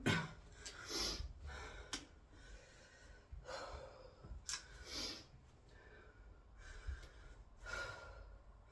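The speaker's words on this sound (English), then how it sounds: "Deep breathing." Heavy, deep breaths during an abs and mobility workout, a series of forceful inhales and exhales with short gasps, close and fairly quiet, about eight breaths with pauses between.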